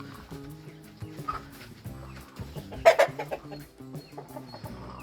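A sick hen clucks softly in a run or yard. Low, faint clucks repeat throughout, with a brief louder burst of calls near the middle.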